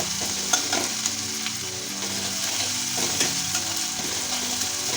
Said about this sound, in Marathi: आपली आता लसूण पण चांगली परतली गेली आहे